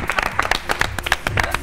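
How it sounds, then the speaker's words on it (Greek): Studio audience applause on a Greek television show, a dense burst of clapping that fills the short stretch at steady loudness, with a voice speaking over it. "Και πάμε ένα χειροκρότημα, παρακαλώ."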